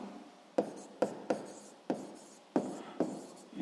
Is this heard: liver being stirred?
no